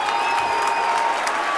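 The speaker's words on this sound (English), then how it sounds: "That one gets the crowd fired up." A basketball game crowd cheers and applauds after a slam dunk, producing a steady wash of clapping and crowd noise at moderate volume for a short burst.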